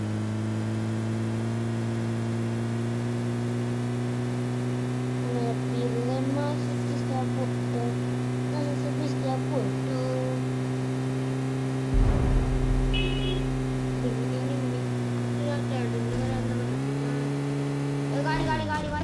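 A car engine in PUBG Mobile drones steadily throughout, holding a constant hum and shifting pitch near the end, while faint game effects sound underneath and a brief thump comes midway.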